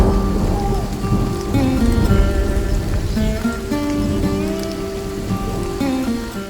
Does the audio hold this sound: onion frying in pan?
no